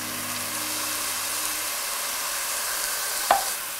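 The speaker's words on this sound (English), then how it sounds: "Now that our garlic is cooked, we're going to add some diced canned tomatoes." Drained, diced canned tomatoes sizzle in a pan with cooked garlic, a steady broad frying hiss that runs throughout, close and even, with one brief clack of a utensil near the end and no talking.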